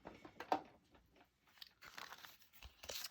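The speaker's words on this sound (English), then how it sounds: "Let me just go crank this through my cut and emboss machine" A paper gift tag is cranked through a hand-operated cut and emboss machine, giving faint, sparse crunching and crinkling pressure sounds with a few sharper snaps, quiet and close.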